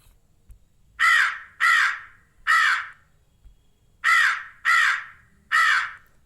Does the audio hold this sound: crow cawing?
yes